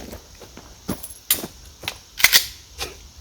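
Handgun shots fired in quick practice strings, about six sharp, crisp cracks with short uneven gaps, each fairly close and clear, with no talking between them.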